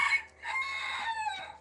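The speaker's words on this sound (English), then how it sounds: "That little rooster crowing cracks me up." A small rooster crows twice in quick succession, close and clear, with a short pause between the drawn-out calls while hens cluck faintly around it.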